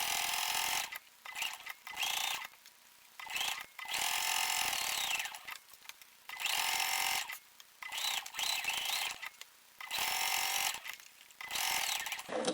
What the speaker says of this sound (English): Needle down, put your foot up, and turn your whole project and sew down the other side.